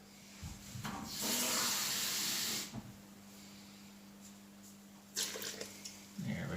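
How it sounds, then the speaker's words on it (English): A cup of water poured into flour for half-rye sourdough bread, a soft hissing stream of water lasting about a second and a half, then brief splashy bursts later on, all faint and close. "And then we're going to add 1 cup of water."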